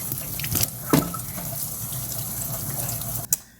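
Tap water runs steadily while lemons are scrubbed with a sponge at a sink, with a few soft clacks and splashes near the end.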